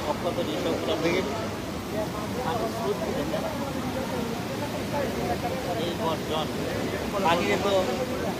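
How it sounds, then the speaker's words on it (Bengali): Strong floodwater current surging past destroyed riverside homes, a dense continuous rumbling rush up close, overlaid by someone speaking throughout. "পানির যে আওয়াজ, যে গর্জন, আসলে খুবই ভয়ঙ্কর"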